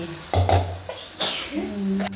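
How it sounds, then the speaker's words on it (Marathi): Spoon scraping and clinking against a pot while stirring matki (moth beans) for Puneri misal, a few short distinct knocks and scrapes close up with brief pauses between them. "आता वरून मटकी आता हलवून घ्यायची"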